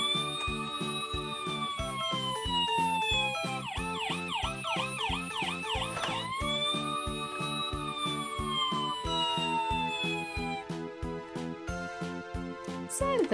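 A Playmobil toy fire engine siren wails continuously with an electronic rising and falling tone and a quick yelping section, over a steady pulsing beat, close and loud.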